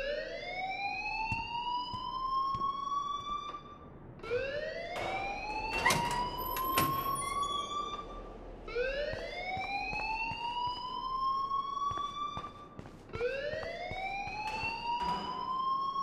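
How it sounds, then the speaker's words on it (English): A fire alarm in the game Life is Strange wails in a repeating rising whoop, each sweep lasting about four seconds, loud and continuous, with scattered clattering noises in between. "please turn off that alarm"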